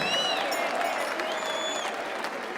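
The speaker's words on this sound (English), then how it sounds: "Let's get a big Paramount round of applause." A boxing crowd applauds after a ten-round fight at the Paramount, a dense, steady wash of clapping with some whistles and cheers rising through it.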